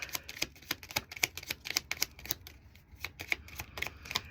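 Chakra oracle cards shuffled by hand, a quick run of crisp papery riffles and flicks close by, steady and alone with no talk.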